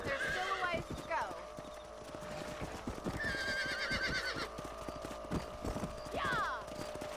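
Horse hooves clip-clop at a gallop with repeated neighs and whinnies in Red Dead Redemption, set on a ranch with cattle. The sound is close and steady throughout, and people speak over it.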